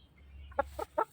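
Three short clucks from a nearby five-month-old chicken come in quick succession over a low background hum, with no other voices.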